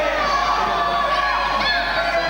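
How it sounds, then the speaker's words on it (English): Crowd at a live wrestling show, a steady wash of applause and excited cheering from a packed audience filling the space throughout, with no single voice standing out. "The applause."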